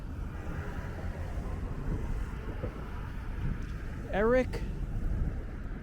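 Wind rumbles and buffets the microphone along a New York City street on Ninth Avenue, a low continuous roar with passing traffic and a brief higher squeal, while a person speaks briefly.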